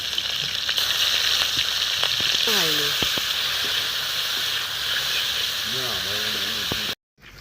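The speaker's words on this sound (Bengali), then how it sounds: "চিংড়ি মাছগুলো আমি ভেজে নিচ্ছি।" Shrimp rubbed with salt and turmeric fry in hot oil, a continuous loud sizzle and hiss throughout, with a voice briefly heard over it before it cuts off at the end.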